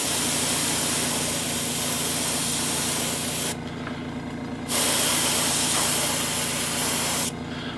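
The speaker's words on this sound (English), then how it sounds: "with just a little bit of light airbrushing on the lips, we've taken that color way down" An airbrush sprays paint lightly onto the lips of a haunt makeup face, giving a continuous close airy hiss that cuts out briefly twice and then resumes.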